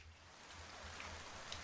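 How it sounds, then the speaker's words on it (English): Rain falling in the game Fantasy Maiden Wars, a faint, steady hiss with a low hum beneath it and a few soft drip-like ticks, no voices. "Starts raining the moment the fight ends, huh?"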